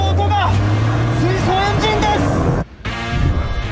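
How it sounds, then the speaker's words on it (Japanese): Hydrogen-engine race car from a 2022 motorsport season, its engine pitch sweeping up and down as it passes, heard under and between close talking voices. "この音が水素エンジンです。"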